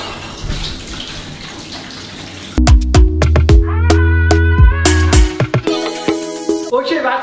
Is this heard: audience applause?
no